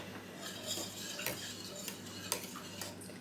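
Coconut pudding stirred in a pan on a switched-off gas stove, with a spoon scraping and tapping against the metal in soft, irregular strokes and quiet clicks.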